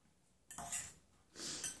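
Stuffing being stirred in a bowl for the microwave, two short bursts of scraping and clinking utensil against dish, close and fairly quiet, with no talking.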